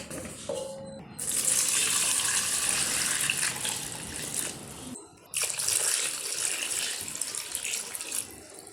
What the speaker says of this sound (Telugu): ఫస్ట్ మనం ఇలా మ్యాంగోస్లన్నీ వాటర్లో వేసుకొని క్లీన్గా నీట్ చేసుకోవాలి.